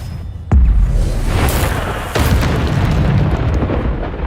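Two heavy booming blasts from the Bombarda spell in Hogwarts Legacy, each a sudden loud detonation followed by a rumbling, crackling tail, the second arriving about one and a half seconds after the first.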